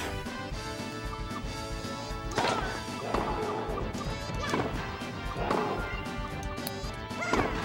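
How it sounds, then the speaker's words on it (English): Tennis smash shots in the Mario Tennis video game, several hard whacks about a second apart over steady game music. "I'm just gonna keep hitting smashes at Bowser."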